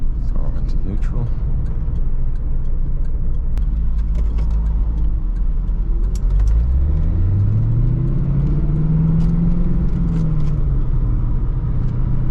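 A Chevrolet Corvette C4 engine rumbles steadily while driving, low and loud throughout, with a rising engine tone as it accelerates partway through; someone talks over it.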